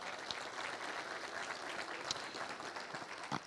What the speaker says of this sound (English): let's give the class of 2026 another round of applause